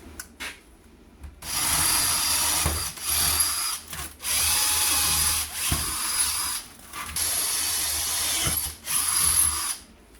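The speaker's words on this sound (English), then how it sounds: "Just got to drill them through now so I can bolt the inner piece on" A power drill whirs in repeated bursts of several seconds each, drilling through steel brackets, separated by short pauses, close and loud with a harsh metallic whine.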